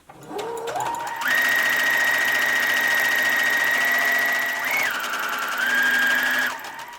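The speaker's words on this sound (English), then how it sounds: "I'm going to begin sewing, no back stitching" Sewing machine stitching a fabric seam on a mock neck bishop sleeve top, a loud close continuous rapid whir that ramps up, runs steadily, dips briefly and resumes before stopping.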